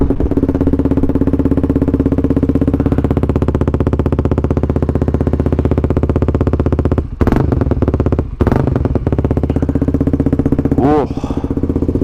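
Suzuki GSX-R 125 sport bike with an aftermarket exhaust runs steadily, close and loud, with a deep droning engine note, two short throttle dips around the middle, and a quick rising rev near the end.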